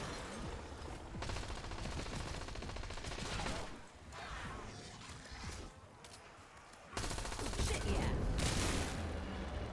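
Rapid gunfire from a zombie-shooting video game, dense bursts of shots at a steady loud level throughout, with a brief lull before the firing resumes even louder.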